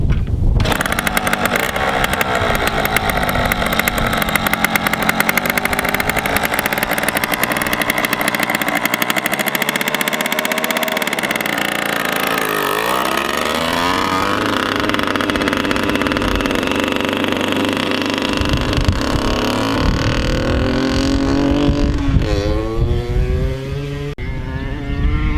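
A 1981 Yamaha MX80 motorcycle runs continuously during a test ride to check the carburetor tuning. The small engine buzzes loud and close throughout, its pitch rising and falling as the rider revs and shifts.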